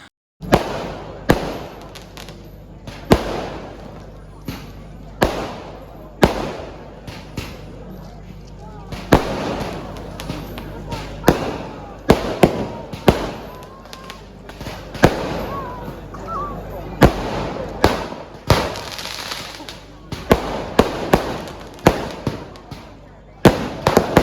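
Fireworks at a temple festival in Kerala, bursting in repeated sharp booms and crackles at irregular intervals throughout, with voices talking between the blasts.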